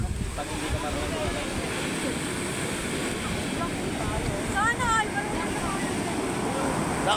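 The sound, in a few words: strong sea waves at a beach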